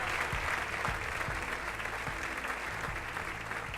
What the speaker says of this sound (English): Let's get some clapping up in here.